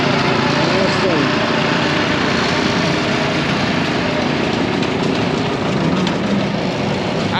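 A big 1959 John Deere tractor approaches at a gas-up tractor show, its engine a steady loud rumble over constant outdoor noise, with people talking nearby.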